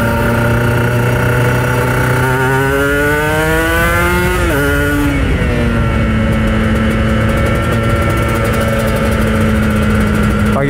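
A Kawasaki Ninja RR motorcycle engine revved on an early morning to burn off carbon deposits, rising in pitch through a strong throttle pull, then dropping back to a loud, steady idle heard close up and alone.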